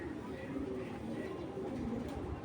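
A racing pigeon gives soft, low cooing close by, steady and continuous over a muffled background hum.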